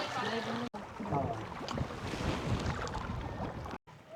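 A bangka boat motor drones over rushing water and wind buffeting the microphone, steady and close, with brief dropouts, off Camiguin Island.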